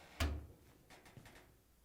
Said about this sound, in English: To get to the part, we need to open the door.